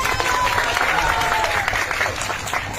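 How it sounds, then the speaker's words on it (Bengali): Audience applause at a Durga Puja pandal in Jaldhaka, a dense steady clapping from a crowd sustained through the whole moment, with some faint voices mixed underneath. "একটা হাততালি"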